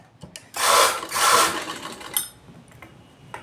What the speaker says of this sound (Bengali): ধরে এখানটা আমি সেলাই দেবো এইভাবে